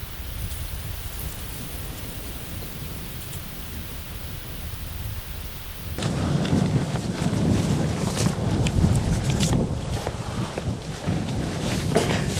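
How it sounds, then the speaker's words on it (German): Strong wind buffets the microphone outdoors in Germany, a steady roaring rumble that suddenly grows louder and harsher halfway through, with no speech. "Aber es ist so windig"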